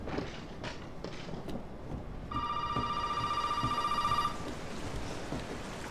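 A telephone rings in the Resident Evil 7 horror game: a steady electronic bell tone sounds for about two seconds, loud and close, over a dark, noisy ambient background.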